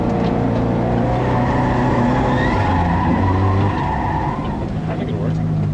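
A 1200 whp Barra-swapped Mustang drifts with its soft tires skidding, a loud continuous engine roar and scrubbing tire noise filling the whole stretch, with some talk mixed in.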